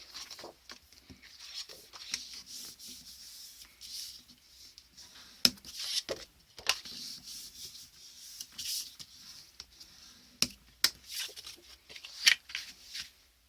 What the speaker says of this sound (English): so now we can do our burnishing now